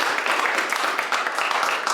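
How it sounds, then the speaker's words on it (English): An audience at a concert of new and improvised music applauds the band, a brief patch of scattered, moderately loud clapping with no voices over it. "Give them a round of applause."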